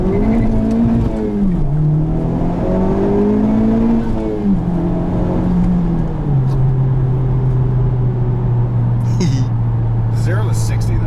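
A 2017 Honda Civic Type R engine revs and pulls hard in first gear, its steady drone rising then dropping as gears change, with a voice talking over it throughout.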